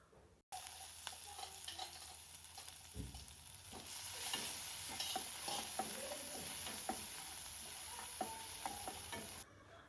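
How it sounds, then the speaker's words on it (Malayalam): Moringa leaf curry sizzles and fries in a pan with little oil, a steady close crackle broken by the scrape and clatter of stirring throughout. "പിന്നെ മുരിങ്ങയില കറി വെച്ചു. കൂടുതൽ ഓയിലൊന്നും ചേർക്കുന്നില്ല."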